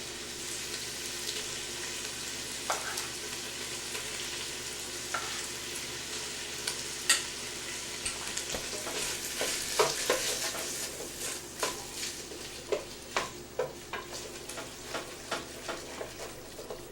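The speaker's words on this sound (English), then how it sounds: "So we're just going to put a little bit of roux in it just to thicken it." A spoon stirs roux into hot vegetables sizzling in a pan, a soft frying hiss under a run of scraping strokes that grow more frequent and distinct toward the end, with no talk.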